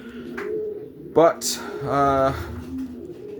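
Racing pigeons in a loft coo in soft, throaty, repeated calls close by, overlapping with someone speaking.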